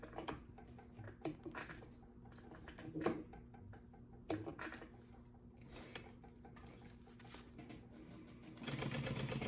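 A sewing machine back stitching vinyl for a crossbody bag, short bursts of close mechanical rattling separated by pauses, ending in a longer steady run of stitching; no one talks.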